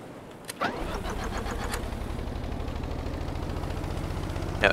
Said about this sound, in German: Motor an. Also Pumpenmotor an.